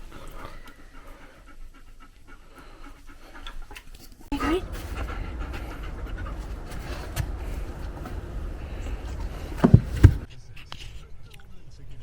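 A dog panting steadily and close in a dog field, rapid rhythmic breaths running through most of the stretch, with outdoor background noise and a couple of louder bumps near the end.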